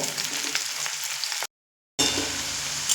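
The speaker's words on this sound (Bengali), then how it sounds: "পেঁয়াজটা মিডিয়াম ফ্লেমে এক মিনিট মতো ভেজে নেব" Large chopped onion sizzles steadily in a pan over a medium flame, a close, even frying hiss that drops out briefly midway and then resumes.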